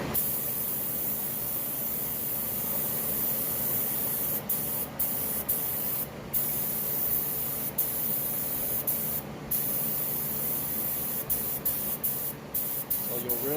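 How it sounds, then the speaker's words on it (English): Paint spray gun spraying color onto motorcycle foot pegs over a black base, a steady loud hiss that runs continuously, cut by short regular pauses between passes. "So I will add that to the gun and then be ready to spray."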